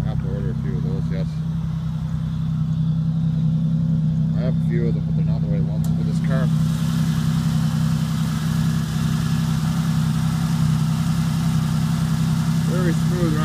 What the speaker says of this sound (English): Wish I could say it was quiet, but it's not. It's a big gaping hole in the muffler.